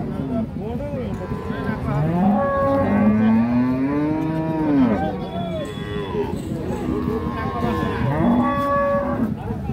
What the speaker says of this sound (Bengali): এই যে গাভীটা